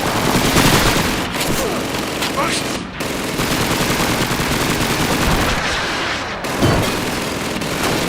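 Sustained machine gun fire from Call of Duty 2 rattles in dense, loud bursts nearly throughout, mixed with other gunfire and explosions of a wartime battle scene.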